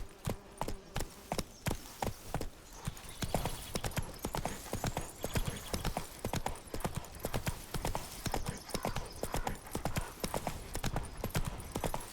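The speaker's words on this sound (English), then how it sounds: "Whoa there, Roach." Hooves of a horse galloping in the video game The Witcher 3, rapid rhythmic clip-clop beats throughout, close and prominent, with brief voice sounds in places.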